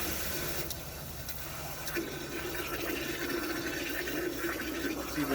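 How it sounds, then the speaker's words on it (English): Water pours and splashes steadily into a fish tank while salt is mixed in, a continuous broad rushing hiss with faint bubbling, fairly quiet and close. "Obviously the water's going to drown my voice out."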